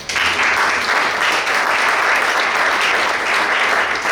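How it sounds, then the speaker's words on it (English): An audience claps for panelists at a small business marketing event, a loud, sustained wash of applause from a large crowd, full and even from start to finish. "Give me another round of applause for them."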